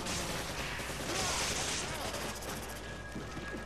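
Gunfire in Resident Evil 5, a dense burst of shots and crashing game effects filling the short stretch, with players talking over it.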